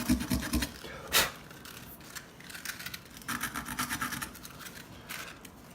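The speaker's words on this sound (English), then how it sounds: "scuff the top of the bolt a little bit, and the contact point" Something scuffs the top of a headlamp bolt on a Willys MB or Ford GPW jeep, making short bursts of close, dry scratching and scraping with brief pauses between strokes and no voices.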